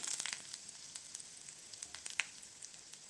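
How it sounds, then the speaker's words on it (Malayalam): Faint, steady sizzling of mustard seeds and green chillies frying in oil with scattered small pops and crackles as the seeds burst, heard alone without any talking. "കടുക് പൊട്ടി വരുമ്പോഴത്തേക്ക് നമുക്ക് പച്ചമുളക് ചേർക്കാം"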